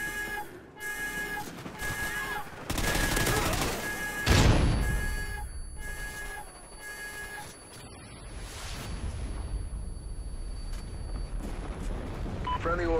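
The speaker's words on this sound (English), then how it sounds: "Chem strike incoming." K.E.M. strike explosions in Call of Duty land as a cluster of sharp blasts and crashes, with one heavy boom standing out, over electronic game tones and a fading rumble.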